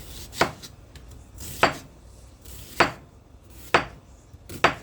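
A kitchen knife slices vegetables thin on a cutting board for a Spanish rice and salt cod dish, giving five sharp, close chops spaced about a second apart with quiet gaps between.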